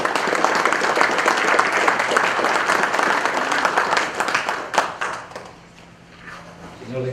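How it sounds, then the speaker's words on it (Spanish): Sustained audience applause at the inauguration of a national notarial conference in Cajamarca, Peru, a dense wash of many hands that thins and fades toward the end, leaving a quiet room. "Aplausos, por favor."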